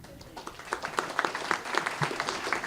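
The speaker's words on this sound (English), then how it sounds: "we will again request that the audience refrain from applauding" Convention audience at a Libertarian Party of Florida state gathering bursts into brief applause, a quick run of fairly close, uneven hand claps at moderate level with no talk over it.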